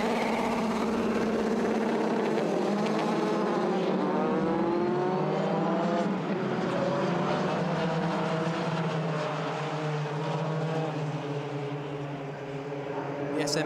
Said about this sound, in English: The revs rise as the green flag is waved at the front of the field, and Martin Chow will pull away.